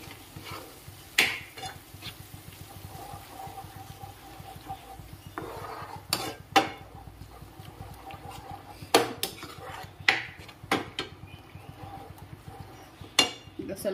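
Yogurt being stirred into a bubbling okra masala gravy in a pan, with scattered spoon scrapes and clanks against the pot over a low simmering background, close and fairly loud.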